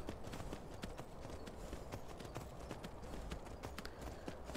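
Horse hooves clip-clop at a steady trotting pace in Skyrim, the regular beats fairly quiet against a dense background.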